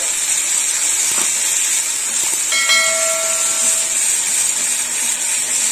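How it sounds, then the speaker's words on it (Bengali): Yogurt water hits a hot pan of eggplant curry, producing a loud steady sizzling hiss that holds throughout, with a brief faint metallic ring partway through and nothing spoken. "এবার যে দইয়ের জলটা দিয়ে দেবো।"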